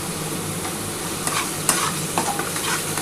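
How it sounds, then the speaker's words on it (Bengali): Masala with tomato and curd frying in a pan while it is stirred, giving a low steady sizzle with occasional spoon scrapes and clicks, close and without talking. "এটা ভালো করে মশলাটা কষাতে হবে।"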